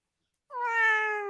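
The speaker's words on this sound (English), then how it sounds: "It's a very sad meow, that is." A cat lets out one long, drawn, plaintive meow, close and clear, that begins after a short silence and holds steady before trailing off. The cat is hungry and wants dinner.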